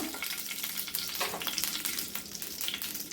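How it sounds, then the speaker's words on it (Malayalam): Curry leaves stirred in a pan over a low flame give a faint, steady crackling sizzle with soft stirring scrapes throughout. "ഒന്നിളക്കി കൊടുക്കാം ഫ്ലെയിം ലോ ലോയിലാണ് വെച്ചിരിക്കുന്നത്"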